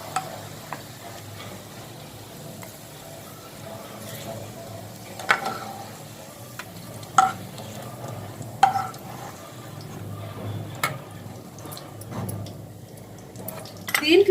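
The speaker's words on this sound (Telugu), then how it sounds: "కొంచెం కలర్ వచ్చేంత వరకు వేపుకుందాం." Onions frying in a pan sizzle softly while a spoon stirs them, with scattered scraping and clicking knocks against the pan over a low, steady hiss.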